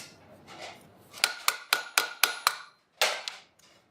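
Truss head rivets on a steel gauntlet's cuff hinge are peened with a hammer, giving a run of six sharp, evenly spaced metallic strikes, a short pause, then one final ringing blow, close and loud with no talking.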